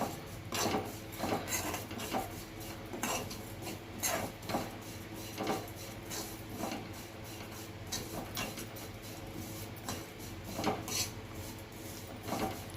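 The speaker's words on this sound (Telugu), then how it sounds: "సేమియాలు వేసేసుకుని ఇవి కూడా కొంచెం రెడ్గా వచ్చేలాగా వేపుకోవాలి చిన్న మంటలోనే వేపుకోవాలి" Vermicelli dry-roasting over a low flame for Andhra-style payasam, with a spoon scraping and clinking against the pan in repeated, fairly regular strokes that stay close and moderately loud, with no talking.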